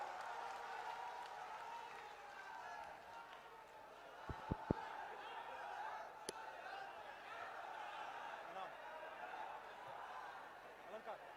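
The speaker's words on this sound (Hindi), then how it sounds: "जब तक जोरदार तालियों से स्वागत करो आप राहुल जी का।" Large outdoor political rally crowd in Bhind, Madhya Pradesh, greeting Rahul Gandhi with sustained applause and cheering, a dense, steady roar with a few sharp knocks near the middle.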